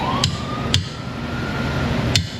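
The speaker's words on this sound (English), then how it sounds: "Hammer it a little bit loose." Three sharp metallic hammer blows land on a socket fitted to a lug nut to knock it loose, unevenly spaced, close by, over a steady low background hum.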